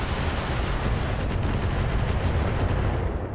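Heavy, continuous weapon fire from an Awesome mech hitting a Battle Master in the RogueTech battle game, a dense, loud roar of overlapping shots and blasts sustained without a break.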